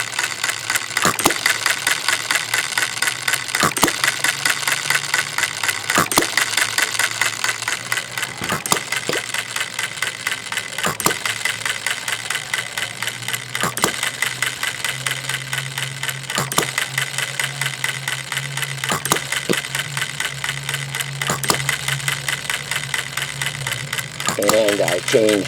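A small engine idles steadily after a week of tuning, with new ignition points fitted. Its mid-pitched running drone stays even and close for the whole stretch, with a few sharp clicks and a brief higher whine near the end.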